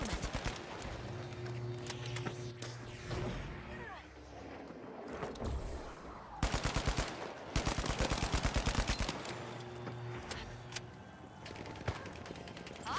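Gunfire in the shooter game The Finals crackles in rapid automatic bursts, with a dense rattling volley midway among scattered shots and game effects, while players talk over it.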